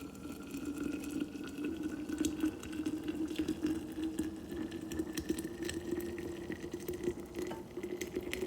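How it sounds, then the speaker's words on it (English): Water pours steadily into a small teapot over garden herbs such as tulsi and sage, a soft continuous trickle and splash that stays fairly quiet and even throughout, with no voices. "And then we'll go ahead and add the water."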